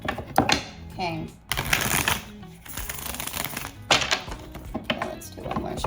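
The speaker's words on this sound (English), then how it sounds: "Let's do one more shuffle." Tarot cards are shuffled in repeated riffling bursts and soft thumps close to the microphone, in a quiet indoor space, with a person speaking through much of it.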